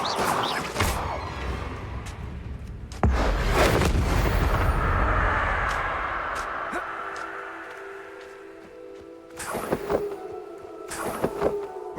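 Spell blasts in the Hogwarts Legacy video game, including an Expelliarmus cast: a loud booming burst near the start, a sustained rumbling whoosh, then sharper cracks near the end, with no talk.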